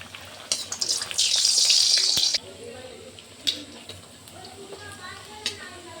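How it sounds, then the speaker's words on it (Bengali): Luchi frying in hot refined oil: a brief, loud burst of sizzling hiss, then quieter crackles and occasional pops. "এবার লুচিটা ভেজে নেব।"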